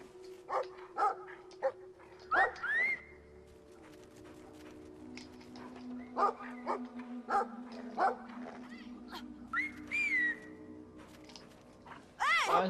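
A dog in the Brothers: A Tale of Two Sons video game gives intermittent short barks and yips over a quiet game soundtrack, separated by pauses, with a louder outburst at the end.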